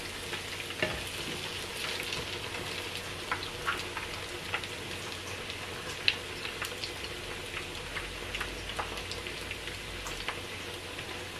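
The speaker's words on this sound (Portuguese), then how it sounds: "E assim eu vou fritando as pataniscas todas." Salt cod fritter batter fries steadily in hot oil, a constant crackling sizzle with scattered pops, close by and without voices.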